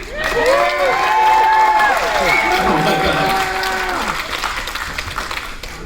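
A cruise-ship comedy-night crowd applauds and cheers loudly as the comedian sips water on stage, steady clapping with whoops and shouts that fade slightly toward the end, while a voice briefly exclaims over it.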